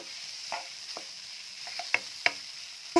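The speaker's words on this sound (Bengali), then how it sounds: "নিউট্রিলা খুব ভালো করে সর্ষের তেলে ভেজে নিই।" Soya chunks fry in mustard oil in a pan, giving a quiet steady sizzle with a few sharp scraping clicks of a stirring utensil against the pan.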